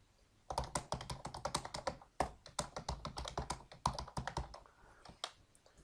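Fingers type on a computer keyboard in quick, uneven bursts of close, crisp key clicks, with a couple of brief pauses between runs of keystrokes and no voices.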